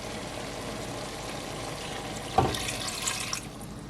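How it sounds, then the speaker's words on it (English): A soy sauce and vinegar mixture pours into a pan of cooking Filipino pork adobo, a brief liquid splash and trickle rising over a steady low background of simmering. "Now we are going to add, this is our soy sauce vinegar mixture."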